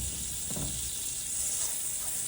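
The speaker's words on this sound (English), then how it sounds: "Make sure your skillet is hot, but not where it's going to burn the butter. And we're just going to melt this butter in here." Butter melting in a hot skillet for a Monte Cristo sandwich gives a steady, close sizzle and hiss with a brief louder flutter of crackling near the start, continuous and without any voices.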